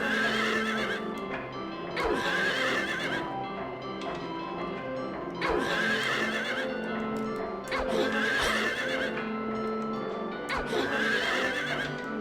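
A horse whinnies repeatedly in drawn-out neighs about every few seconds in the video game Silent Hill 3, with hoof clops and background music underneath.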